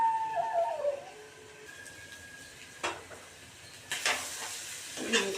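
Chicken meat frying in a pan makes a soft, steady sizzle, with occasional louder bursts of scraping as the pieces are stirred. A faint tonal whine comes through early on.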